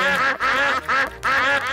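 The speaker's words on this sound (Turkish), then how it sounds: "Başka ördekler de geliyor." Cartoon ducks quack loudly and close by in Peppa Pig, four nasal calls in a steady, rhythmic series.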